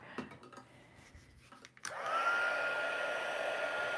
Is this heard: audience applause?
no